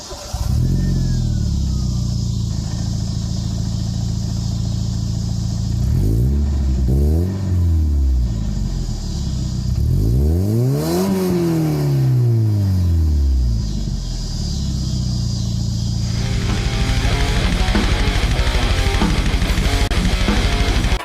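A 1990 Mazda Miata engine revs hard through a new exhaust, with several loud rising-and-falling blips and a steady idle rumble between them, close and alone.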